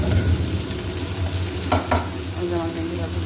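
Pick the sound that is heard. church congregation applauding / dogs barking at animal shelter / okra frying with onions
okra frying with onions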